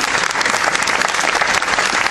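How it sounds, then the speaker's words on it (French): Applause fills the room at an extraordinary general meeting of a Toulon football club, a loud, dense and steady patter of many hands clapping with no break and no talk. "je crois que les applaudissements,"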